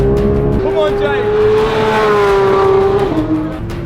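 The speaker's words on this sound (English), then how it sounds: "The Porsche was immediately faster than the Revuelto around this track." A Porsche driven hard around a race track, its engine holding a loud, steady high-pitched drone that shifts pitch near the end, with a voice faintly underneath.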